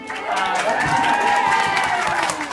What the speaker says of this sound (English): Thank goodness you're applauding